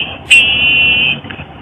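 A single synthetic truck-horn beep from an electronic keyboard's sound effect, a steady tone held for about a second, then cut off, over low background noise.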